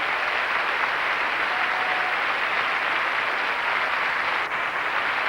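Audience applause at a major ice skating competition, a dense steady wash of clapping from a large crowd, distant and even throughout.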